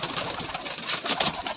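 Black Moti breeder pigeons coo softly and continuously in a short close burst, with no voices.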